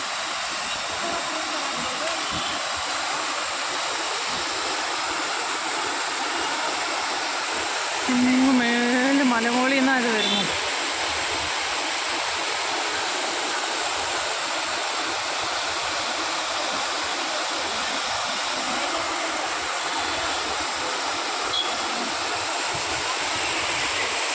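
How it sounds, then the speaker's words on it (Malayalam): A monsoon waterfall roars continuously as rushing water pours down, a dense steady wash of sound lasting throughout, with a brief tonal whine partway through and no speech over it. "ദേ വാട്ടർഫോൾസ് ആ വാട്ടർഫോൾസിൻ്റെ വെള്ളത്തിൻ്റെയൊക്കെ സൗണ്ട് നിങ്ങൾക്കൊന്ന് കേൾപ്പിച്ചു തരാം"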